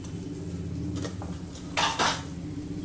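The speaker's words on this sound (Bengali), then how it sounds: "এবার মশলাটা কষাতে থাকবো" Spices such as ground coriander and cumin stirred in a pan with a little water for a bitter gourd dish, quiet low sizzle with a few metal spoon scrapes against the pan.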